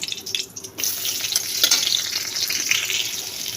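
Dried chillies and four green chillies sizzle steadily in hot oil in a pan, with light stirring and scraping, at the start of cooking a wild taro leaf dish.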